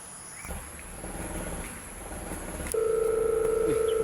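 A phone begins ringing with an incoming call, a sudden steady loud electronic tone cutting in over quiet background noise and continuing to the end.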